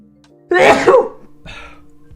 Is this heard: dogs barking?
no